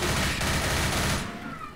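Rapid gunfire from the video game Left 4 Dead rattles loud and continuous for over a second, then fades into a quieter tail.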